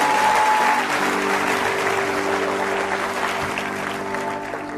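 A church congregation applauds steadily for several seconds, a dense even wash of clapping that fades slightly toward the end, with a sustained tone lingering underneath.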